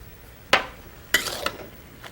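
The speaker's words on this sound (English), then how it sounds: "Give it a little stir around." A utensil knocks against a cooking pot of spinach puree with parsley, three or four sharp metallic clinks spaced irregularly over a quiet background, close and fairly crisp.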